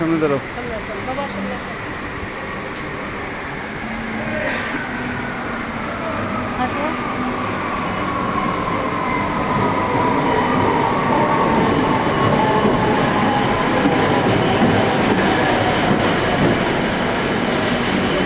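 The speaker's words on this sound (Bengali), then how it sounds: "এই যে ট্রেন আসতেছে মেট্রো আসতেছে" A Kolkata Metro train pulls into Park Street station, its steady underground rumble and clatter building while thin wheel squeals sweep across it. Voices murmur from the platform crowd throughout.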